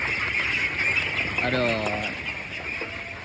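Ducks and young ducklings on a duck farm quack in a short harmonic burst midway, heard under a steady background hum, while a person talks over them.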